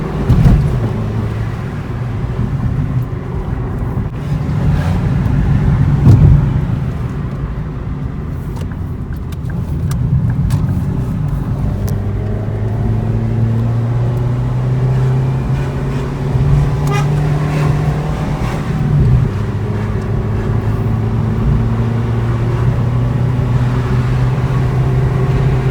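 A Ford Fiesta 1.25 with 60 hp drives along with a steady, loud engine drone and road rumble inside the cabin, the engine note rising and falling as it pulls through bends.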